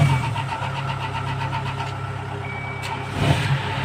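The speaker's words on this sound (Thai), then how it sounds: "เดี๋ยวมาฟังเสียงเครื่องยนต์นะครับผม" A Kubota combine harvester engine idles loudly and continuously with a steady rumble, a rhythmic mechanical pulsing and a brief clank near the end.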